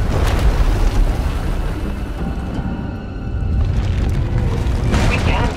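In a Star Wars game, a powerful eruption blasts through an asylum as a deep, booming rumble that swells loud at once, dips slightly, then surges again toward the end, with spoken dialogue mixed beneath it.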